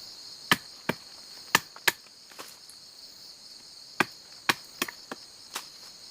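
Pruning unproductive branches from coffee plants outdoors in a village plantation: sharp snips and chops land irregularly, about ten in all, clear and fairly near, over a steady high drone of crickets and insects.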